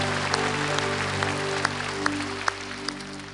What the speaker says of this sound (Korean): 주님께 큰 영광의 박수 올려드립니다